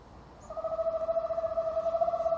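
A screech owl's contact call: a long, steady monotone trill, rapidly pulsing and sustained for about two seconds, heard clearly on its own.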